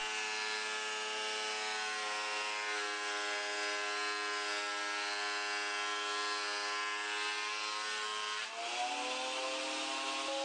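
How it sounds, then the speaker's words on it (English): Jointer/planer planing a wooden board in a home shop, a steady loud machine whine with tonal cutter harmonics running throughout, shifting pitch briefly near the end, with no talking. "And planing a board."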